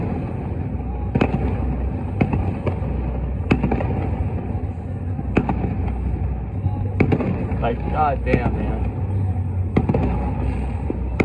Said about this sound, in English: Damn, that'd be some fireworks out there in the 4th of July